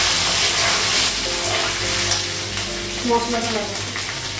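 Pieces of taro (kochu) fry in a pan with a loud, steady sizzle and some stirring, while someone talks briefly over the cooking.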